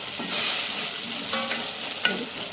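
Ginger, garlic and tomato fry in a hot pan, a close bright sizzle broken by a few scraping stirs of a spatula.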